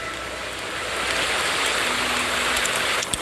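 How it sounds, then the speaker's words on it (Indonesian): Rain falls steadily in a village, a dense, even hiss of drops that grows slightly heavier and stays close and loud throughout, with no voices. "Tapi pada hari itu tiba-tiba hujan turun."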